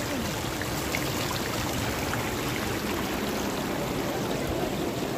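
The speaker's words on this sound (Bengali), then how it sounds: "আর ঝর্ণার জল দেখুন।" A snowmelt waterfall stream near Manali rushes in a dense, constant wash of water noise that stays close and even from start to finish.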